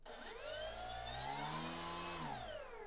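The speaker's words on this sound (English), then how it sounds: "And then finally, I'll hold it just to give a touch of the throttle." Motor and propeller of a Fair RC Blue Jay ARF trainer plane get a brief touch of throttle, giving a close, smooth electric whine that rises in pitch and then eases back down over a few seconds.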